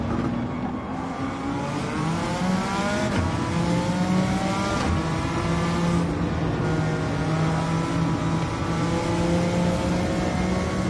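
A Suzuki Escudo race car in Gran Turismo 7 pulls hard under sustained acceleration, its engine droning and rising in pitch through gear changes, loud and continuous with faint tire noise.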